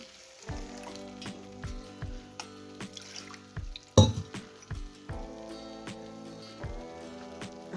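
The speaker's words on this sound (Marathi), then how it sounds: "ह्याच्यात घालूया पाणी" Water is poured into a pan of egg curry masala already sizzling in oil, producing a sharp burst of hiss and spatter amid an otherwise quiet, crackling frying sound with clinking.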